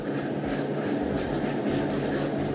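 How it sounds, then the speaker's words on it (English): A series of rapid, rhythmic spray bursts hiss from a trigger bottle spraying fabric spray onto a shirt, about eight pumps in quick succession over a low background hum. "You spray it on, heavy spray this."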